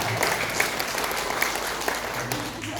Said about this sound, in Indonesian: Tepuk tangan untuk Bapak dan Ibu.